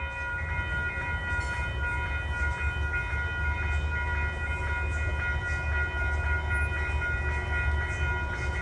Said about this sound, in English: Gates are dropping at 4:19 for train 839, Grand Central to Poughkeepsie.